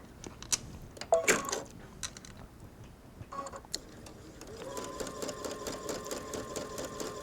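Sewing machine stitching embroidery onto a jacket, faint clicks and handling noises giving way to a soft, steady mechanical whir of running stitches.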